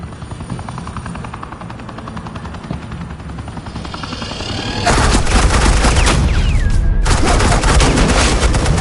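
Sustained suppressing gunfire in Telltale's Batman season 2 game, a loud dense burst of rapid shots that starts abruptly midway and continues over a steady background rumble.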